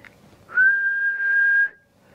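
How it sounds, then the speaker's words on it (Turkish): A single sustained human whistle, one clear steady tone held for about a second, loud and close, with silence around it. "Islık çalmayı öğrenin arkadaşlar."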